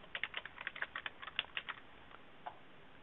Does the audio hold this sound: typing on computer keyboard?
yes